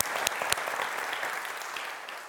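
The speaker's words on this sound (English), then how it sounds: "I'd like to just have a first round of applause." Audience applause at a water prize symposium in Stockholm, dense steady clapping from a sizable crowd with a few sharper claps up front, continuous and without voices.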